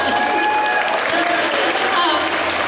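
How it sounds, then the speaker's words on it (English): A Q&A audience at a horror fan convention breaks into applause, a dense wash of clapping mixed with cheering voices and crowd noise, heard close and loud throughout the short burst. "yes, please, applaud."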